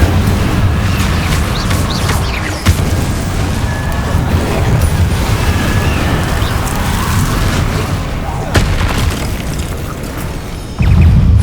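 Fire spells cast during a fight against Inferi in Hogwarts Legacy on PS5, giving loud, continuous booming blasts and crackling bursts with a heavy impact near the end.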